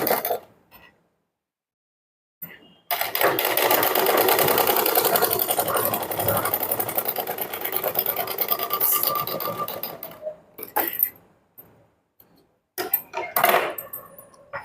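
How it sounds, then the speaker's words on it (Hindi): Sewing machine stitching a folded-in fabric strip onto a blouse back neckline, running in a steady loud whir for several seconds, with short bursts and pauses at the start and end and no talk. "सिलाई मार्जिन अंदर की साइड छुपाते हुए इस तरीके से सिलाई लगाएंगे"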